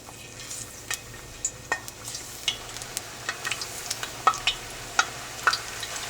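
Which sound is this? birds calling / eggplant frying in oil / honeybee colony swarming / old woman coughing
eggplant frying in oil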